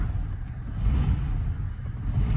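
A car engine runs after injector repair, a steady low rumble that stays close and fairly loud the whole time, with no voices over it.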